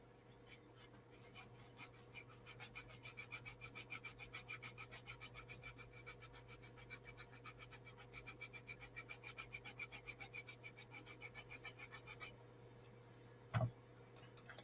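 An art gum eraser rubs the back cover of a comic book in quick, even back-and-forth strokes, a rhythmic scratchy rasp that runs close and steady for about twelve seconds, then stops with a single sharp knock.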